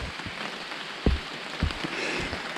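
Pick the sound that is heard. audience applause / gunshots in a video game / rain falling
rain falling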